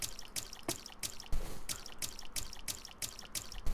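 A character splashes through water in the video game Forsaken Isle, a run of close, regular sloshing steps at a quick pace, each a short wet slap with a bright spray, no talking.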